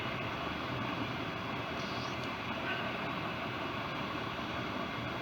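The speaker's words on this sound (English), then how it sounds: "We heard we're throttling down the Merlin engines on the first stage." A steady, dense roar of SpaceX Falcon first-stage Merlin engines throttling down during a crewed launch rumbles continuously without letup, broad and powerful throughout.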